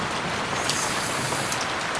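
Steady, dense rain hisses without a break, filling the space evenly with no clear individual drops or voices.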